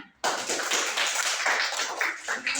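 A class of schoolchildren bursts into a short, lively round of hand clapping in the classroom, starting abruptly and fading after a couple of seconds.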